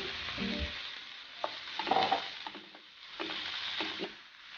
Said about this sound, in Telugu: ఆనియన్స్ కొద్దిగా ఫ్రై చేసుకోవాలండి